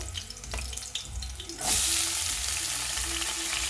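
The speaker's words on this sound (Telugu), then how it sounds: "ఆయిల్ వేడెక్కింది కదండి ఇప్పుడు పచ్చిమిర్చి వేసుకోవాలి పచ్చిమిర్చి వేగినాయి కదండి ఇప్పుడు ముక్కలు వేసుకోవాలి" Capsicum and green chillies drop into hot oil, setting off a sudden loud sizzle partway through that keeps crackling steadily close up, with faint kitchen clatter before it.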